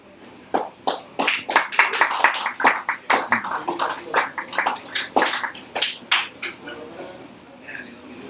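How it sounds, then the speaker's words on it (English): A small bar audience at a spoken-word night gives a short burst of scattered clapping, sparse and uneven, swelling briefly before thinning out to a few last claps. "A little applause."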